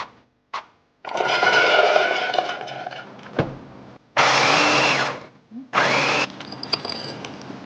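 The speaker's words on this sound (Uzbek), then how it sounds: "Birinchi ishimizni yong'oqni maydalashdan boshlaymiz." Walnuts for Turkish baklava are ground in an electric chopper, with four loud whirring bursts of blending between short pauses and a few brief knocks.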